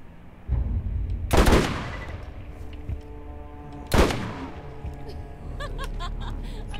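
Borderlands gunfire rings out as two sharp, loud shots a few seconds apart, each with a ringing tail, over steady low game rumble, with a few quicker pops near the end.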